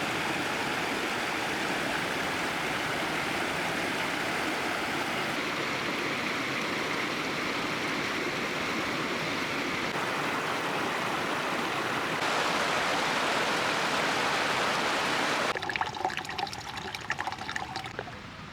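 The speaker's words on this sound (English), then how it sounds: "Now we're at the creek crossing proper here." A mountain creek rushes steadily at a crossing on the way to a glacier, a loud continuous broadband wash that swells slightly near the end as footsteps and splashing intrude.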